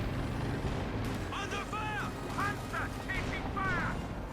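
In Company of Heroes 2, Panzer IV tanks and machine guns keep up a continuous, rumbling barrage of battle noise, heard under steady commentary from a man.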